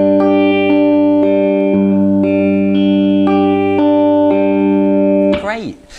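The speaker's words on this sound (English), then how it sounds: "So when we apply this picking pattern, it'll sound like this." Guitar notes picked one at a time in a steady repeating pattern over sustained chords, clean and close, ending with a brief scrape.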